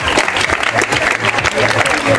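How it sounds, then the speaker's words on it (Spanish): An audience applauds at a municipal event in honour of a town official, a dense burst of clapping with a voice talking over it, loud and close. "les pido un aplauso, por favor."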